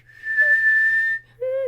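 A person whistles a tune alone, holding one long clear note before a short break and then starting a second, lower note.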